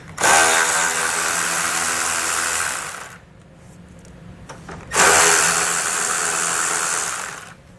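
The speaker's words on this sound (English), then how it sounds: "we can go ahead and remove these 2 10mm bolts that is securing our license plate frame" Power tool removing two 10mm license plate frame bolts, with two loud sustained whirring bursts of several seconds each separated by a quiet pause, close up and with no talk.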